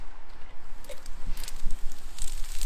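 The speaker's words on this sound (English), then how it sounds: "You can hear them crackling away." Food crackling as it cooks on a Big Green Egg ceramic grill during a Mexican-themed cook, a steady low sizzle with scattered pops and crackles, fairly close and continuous with no talk over it.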